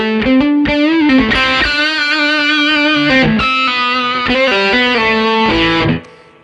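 An electric guitar runs through a JMI Tone Bender fuzz pedal with the gain at about halfway, playing loud, sustained fuzzy notes and short riffs up close, then cutting off sharply at the end.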